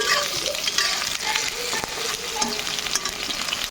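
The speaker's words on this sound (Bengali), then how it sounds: "এদিকে বেগুন ভাজা হচ্ছে" Eggplant sizzles loudly in a hot pan, a dense continuous crackle with a few sharper pops, close by and uninterrupted.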